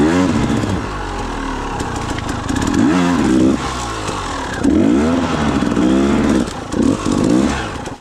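A dirt bike engine revs and pulls on a wooded trail, close and loud throughout, with its pitch rising and falling as the throttle opens and closes.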